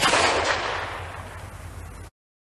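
A single loud shot from a Traditions .50 caliber percussion pistol, a sharp blast followed by a fading, reverberant tail that lasts about two seconds and then cuts off.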